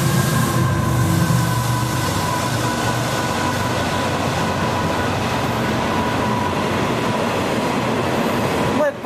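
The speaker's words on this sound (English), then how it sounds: "Must be a CSX train." A CSX freight train led by a single engine rumbles steadily past nearby, with a low continuous roar and faint rhythmic wheel clatter, loud throughout.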